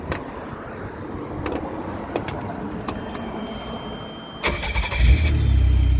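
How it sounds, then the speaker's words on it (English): A 1991 Nissan Figaro engine cranks and catches around the midpoint, settling into a steady low idle after some rattling and clicking noises beforehand. "Let me just fire it up for you."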